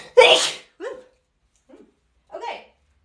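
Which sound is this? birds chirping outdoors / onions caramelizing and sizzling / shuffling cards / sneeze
sneeze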